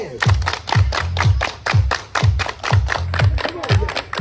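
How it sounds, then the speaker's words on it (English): A crowd at a festival event claps hands in unison, about two claps per second in a steady, loud beat with thudding accents and faint voices underneath. "Everybody clap your hands!"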